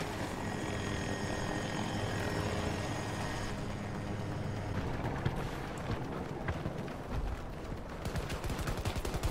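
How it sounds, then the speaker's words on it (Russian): A military helicopter in the shooter game Battlefield 2042, its rotor and engine droning steadily while bursts of gunfire crackle around it, growing busier and more chaotic toward the end. "Выбил пилота из снайперки и забрал вертушку у них."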